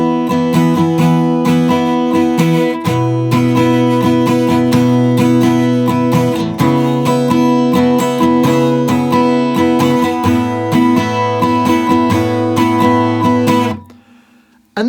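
An acoustic guitar strums chords of a song in a steady rhythm, bright and close, with no voice, before it cuts off abruptly near the end.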